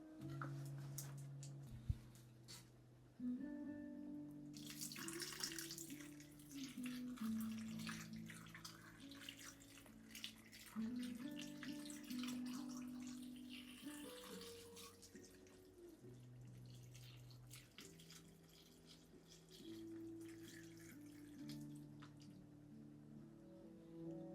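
Water pours into a pot over meat for stock, a quiet trickling and splashing stream with intermittent bursts, heard alone with faint background tones.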